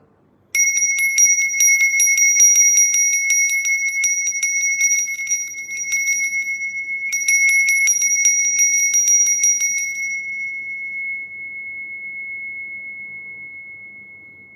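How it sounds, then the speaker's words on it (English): A hand bell, a gift kept for over a decade, rung with rapid repeated strikes that produce a clear ringing tone, pausing briefly, then ringing again before a long pure tone fades slowly into silence. "And finally, Mangku's bell that he gave me more than 10 or 12 years ago"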